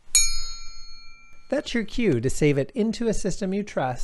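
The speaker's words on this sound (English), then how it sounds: "the bell sounds like this" A single bright bell ding rings out at the start and fades over about a second and a half, then a person talks.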